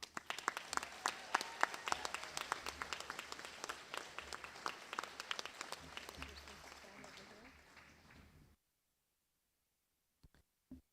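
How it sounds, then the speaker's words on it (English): An audience claps for graduates and their supporters at the Matawa Education & Care Centre graduation, a sustained round of crisp hand claps that fades out, then near silence broken by a couple of faint knocks. "I think we need to give you all a special round of applause."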